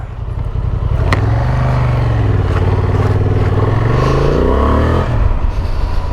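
A 2025 Honda Transalp 750 motorcycle being ridden, its engine droning loud and close as revs climb and fall through the gears, with wind rush over the mic and no talking.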